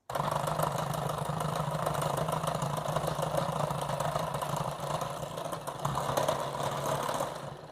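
An electric hand mixer whips heavy whipping cream for a rum and raisin ice cream base, giving a steady, close motor whir that runs throughout with a brief dip near the end.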